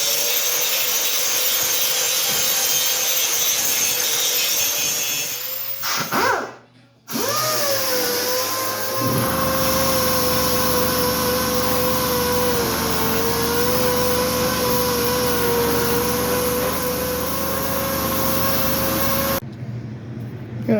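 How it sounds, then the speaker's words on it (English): An angle grinder takes rust and lumps off steel C-channel: a loud, steady high whine with a short break partway through, then grinding contact on the metal that continues almost to the end, heard alone. "So I'm just going to grind off all the rust and the lumps and bumps."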